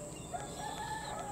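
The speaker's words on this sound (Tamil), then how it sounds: "பறவைகள் எவ்வளோ அருமையாக சவுண்டு கொடுத்து பாருங்க," Birds calling, with fowl-like crowing and clucking tones, faint and distant over a brief stretch of quiet background.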